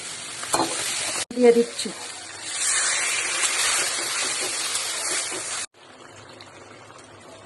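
Chicken poured into a hot pan of fried spices, vegetables and turmeric for chilli chicken gives a loud, sustained sizzle that swells and then stops abruptly, with a brief voice near the start.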